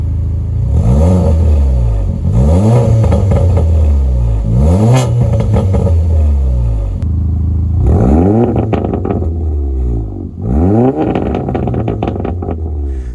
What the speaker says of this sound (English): If I hit the off button, it sends all the exhaust basically through a straight 3-inch pipe to the back.